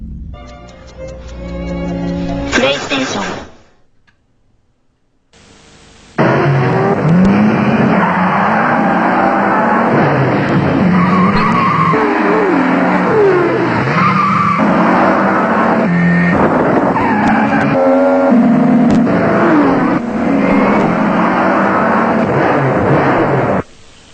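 Racing car engines roar continuously with repeated tire squeal and skidding from the Gran Turismo 2 PlayStation racing game, loud and sustained after a short burst of game music and a brief pause.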